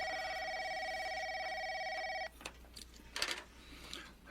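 A telephone bell rings steadily for about two seconds in a Filipino radio drama, a loud continuous electronic trill that stops abruptly, followed by faint rustling and handling noises.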